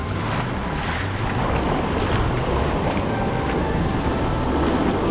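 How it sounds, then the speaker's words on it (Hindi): Ocean waves wash onto a beach in Brazil, a steady, broad roar of surf mixed with gusting wind buffeting the microphone, continuous and fairly loud throughout with no voices. "यहाँ का वेव्स बहुत अच्छे हैं"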